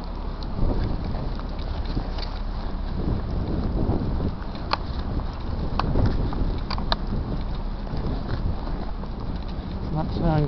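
Wind blowing steadily along the Lake Michigan shore in Chicago's Edgewater during a snowstorm, a broad continuous rush with scattered knocks and faint background sounds throughout.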